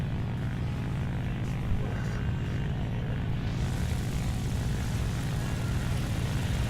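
Ki-84 Hayate fighter plane in War Thunder during a barrel roll: a steady, loud propeller engine drone with airflow rushing, its brightness rising partway through as the maneuver changes.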